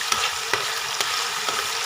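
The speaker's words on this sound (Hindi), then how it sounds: "इसको घी में डाल कर फ्राई करते हैं।" Mash dal (urad lentils) frying in ghee, a bright, continuous sizzle broken by four evenly spaced scraping strokes as the lentils are stirred.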